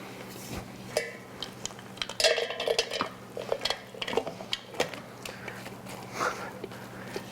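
A faux turkey mixture is mixed by hand and pressed into a bundt pan, with soft squelching, scattered knocks and clinks of the pan, irregular and close.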